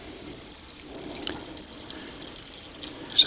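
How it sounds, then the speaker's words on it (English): Water flows through newly installed plumbing for a tankless water heater with a soft, steady hiss and faint trickling, quiet and close, with a few small rattles. "I hear the water flowing"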